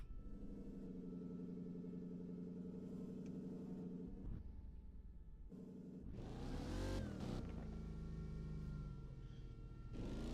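Car engine in a driving video game, a steady idle hum that drops out, then revs up sharply into a loud rising roar before settling back to a quieter drone, no talking.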